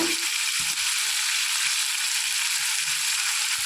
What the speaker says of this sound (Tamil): நம்ம சாம்பாருக்கு மொத்தமாக தாளித்து விட்டுறோம்